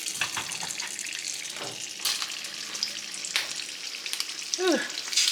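Shishito peppers fry in oil in a skillet, giving a steady close sizzle with bursts of crackling and a few soft clinks of utensils, with no talking.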